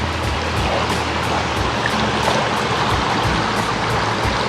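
A river in Fairbanks, Alaska rushes past close by, a loud, steady broadband roar with no breaks and no voices.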